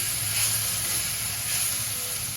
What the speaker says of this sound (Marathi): त्यावर आपण आवळा आणि हळद घालूया आणि छान परतून घेऊया.